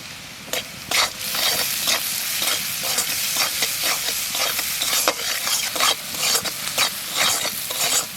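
Onion and green chilli frying in a pan, a loud, bright sizzle cut by repeated rhythmic scraping strokes of a spatula, about a dozen over several seconds, with no one talking.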